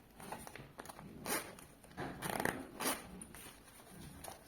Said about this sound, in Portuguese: Vou fechar aqui o zíper